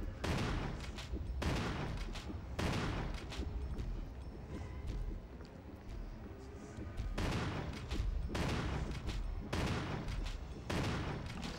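Shotgun blasts in the PC game Resident Evil HD Remaster during a speedrun: a run of booming game gunshots in clustered bursts with brief gaps, over a steady background of game ambience.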